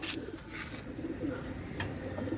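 Soft, low coos of Pakistani Teddy pigeons repeat gently against a quiet background hum.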